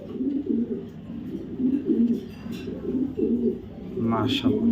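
A female pigeon with fiery eyes, a foreign racer breed kept at a loft, coos in low repeated rolling phrases at close range, with a brief higher sound near the end.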